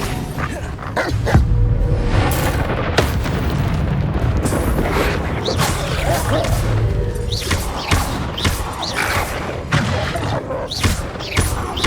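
An Incendio fire spell is cast in Hogwarts Legacy, with loud, dense thumps and booming bursts that run almost continuously and keep a close, forceful roar throughout.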